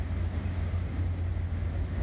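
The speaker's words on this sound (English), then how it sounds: "Here comes the engine now" A heavy railway locomotive working a rail replacement job on a CPR line, heard as a steady low rumble and drone that holds close and fairly loud throughout, with wind buffeting the microphone and no voices.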